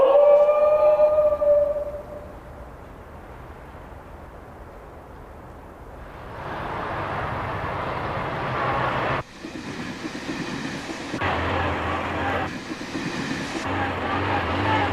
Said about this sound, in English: Here's the train coming, Vic.